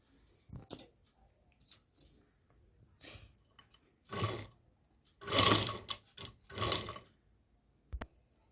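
A simple domestic sewing machine stitches dori piping onto fabric in short bursts of whirring, separated by pauses and small clicks, fairly close with no talk over it.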